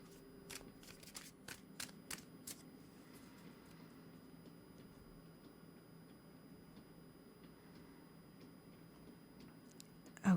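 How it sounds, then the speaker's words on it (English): A handful of quick, crisp riffles of a tarot deck snap in a row early on, then near quiet with faint room hum; a brief bump at the end. "So I'm going to give the deck a really good shuffle for you"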